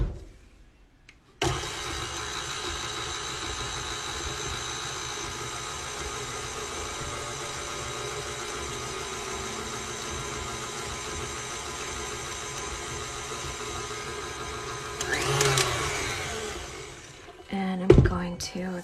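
An electric mixer beats oatmeal raisin cookie dough in a bowl, a steady whirring drone that starts abruptly and runs nearly unbroken, then shifts in pitch and sputters to a stop near the end.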